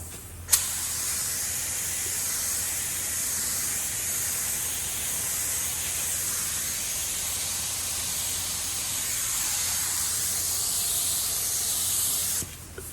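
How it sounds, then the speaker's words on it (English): A 3M Accuspray spray gun lays a light tack coat of AWLCRAFT 2000 paint with a narrowed fan and reduced flow, giving a steady, close hiss that runs unbroken for about twelve seconds and then cuts off. "I'm gonna narrow my fan down and cut the paint flow way back"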